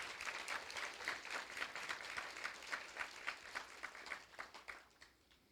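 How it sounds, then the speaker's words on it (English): An audience at an awards event claps for a student leader team. The applause starts as a full, dense burst, then thins into scattered individual claps that fade out. "Let's give them a hand clap."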